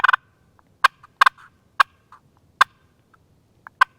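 Sharp, scratchy turkey pot call notes with soft rolling purrs between them, spaced irregularly and close to the listener, with no voices.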